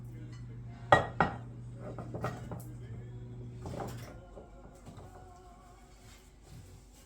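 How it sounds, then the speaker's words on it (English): Apples are dropped into metal baking pans, giving two sharp clanks close together followed by softer knocks and rattles in a quiet kitchen. "I'll put my apples in here."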